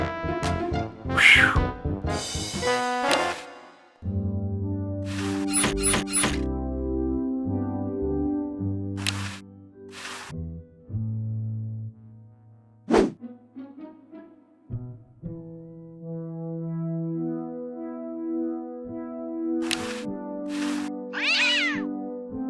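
Cartoon cat yowls, meows and squeals as a cat catches a mouse in the remastered adventure game Day of the Tentacle, scattered across a long stretch over sustained tonal game music.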